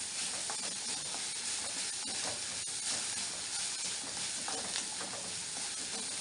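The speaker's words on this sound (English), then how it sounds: "Till it is cooked, you just saute the same continuously." Fenugreek leaves, peas and cream saute for a Jain curry without onion or garlic, producing a faint, even hiss and sizzle that runs on steadily with light stirring and no talking.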